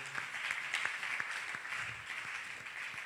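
A church congregation clapping during a worship service, a fairly faint but steady patter of many hands with a few sharper, closer claps standing out.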